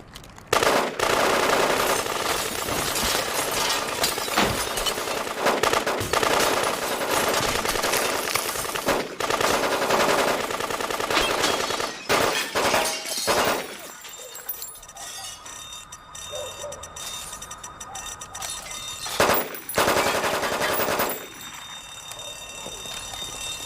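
Gunfire and breaking glass crash through a film scene, loud dense bursts of shots with sharp clinks over the first half, then scattered single cracks and debris as the noise thins out.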